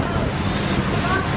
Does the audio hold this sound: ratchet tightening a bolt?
no